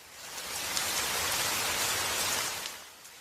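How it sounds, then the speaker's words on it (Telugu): Heavy rain pours down steadily as a storm breaks, a dense, continuous hiss close by with no voices over it. "ఒకరోజు అకస్మాత్తుగా పెద్ద వర్షం కురిసింది."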